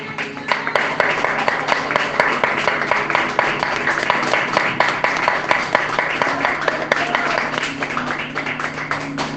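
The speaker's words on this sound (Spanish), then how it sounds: "Dale un fuerte aplauso al Señor." A church congregation claps together in a loud, steady run of applause, dense overlapping claps filling the space throughout without pause.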